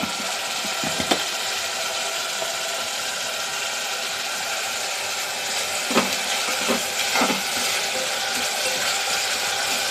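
Tomatoes fry in a pan for egg biryani, a steady sizzle throughout with a few sharp scrapes and knocks of stirring at intervals, close and unaccompanied.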